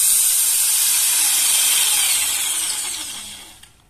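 A steady, loud hissing grind of drilling into red brick, bright and continuous, tapering off at the end as the drill stops.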